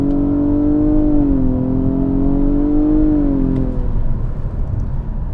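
A 2021 Nissan Maxima SR's 3.5-liter V6 holding a loud, steady droning rev from inside the car, pitch dipping slightly and rising before easing off toward the end.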